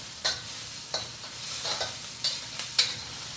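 Green onion sautéing in a hot, smoking wok for Taiwanese-style Manila clams with basil, a steady sizzle broken by several sharp bursts as the pan is stirred, close and fairly loud with no talk.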